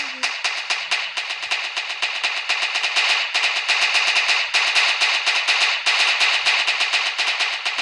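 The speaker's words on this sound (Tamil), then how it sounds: "இந்த கட்டி வெடி வெடிச்சிடலாம்" A long, dense string of rapid-fire bangs crackles nonstop, loud and close, like a firecracker chain going off in quick succession, in a fireworks video game.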